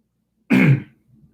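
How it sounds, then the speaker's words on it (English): A single short, rough throat clearing close to the mic, followed by a faint low murmur and then quiet. "It makes me clear my throat too."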